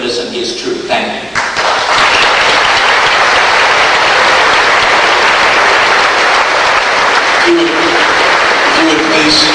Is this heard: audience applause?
yes